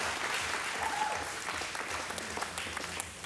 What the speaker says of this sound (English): a massive round of applause for all of our sponsors this evening